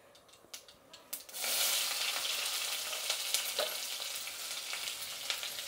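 Chopped onion and grated ginger hit hot oil with mustard seeds in a kadai: a few light taps, then a sudden loud sizzle that settles into steady frying with occasional crackles.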